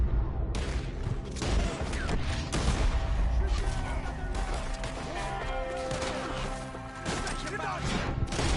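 Rapid volleys of gunfire in Red Dead Redemption 2 during a shootout, with dense cracking shots and impacts repeating throughout, alongside voices.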